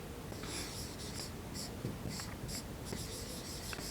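Chalk or a marker scratches on a board during a maths lesson in short, repeated strokes against a steady hiss of background noise, and no one speaks.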